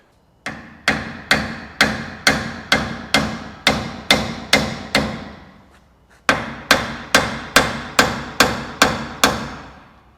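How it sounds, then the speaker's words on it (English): Sharp metallic hammer blows ring out in a steady rhythm, about a dozen strikes, then a short pause before another even run of taps, tapping tapered collars out of a 1987 Dodge D-350 truck's steering. "we're going to try to tap those out of there. With a hammer"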